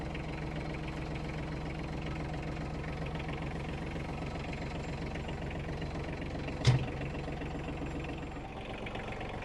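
A tractor engine idles in a steady, low rumbling drone, with one brief knock partway through before it settles back to the same hum, while scooping compost from a chicken compost system.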